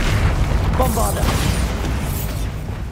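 Bombarda blasting spell explosions in the Hogwarts Legacy video game, a dense, loud clash of booming bursts and magical effects, continuous and busy throughout with no pauses.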